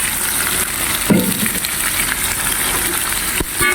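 A spicy ulam dressed with oyster sauce sizzles steadily in a pan while being stirred, a loud close frying hiss with a few scraping knocks of the utensil.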